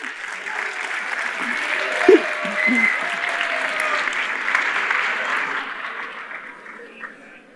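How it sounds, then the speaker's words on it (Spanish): An audience claps in welcome for the speaker Nicolás at the Impactup 2026 event, a dense, even wash of applause that swells slightly and then tapers off toward the end, with a brief louder knock near the start. "Recibamos con un fuerte aplauso a Nicolás."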